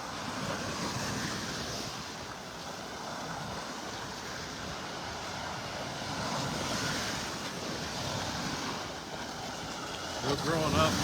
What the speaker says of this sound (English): It's pretty good waves there.